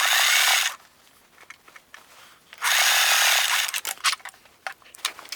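A sewing machine zigzag-stitching a stretchy T-shirt seam while repairing an armpit hole, running in two loud close bursts separated by a pause filled with soft handling and light taps.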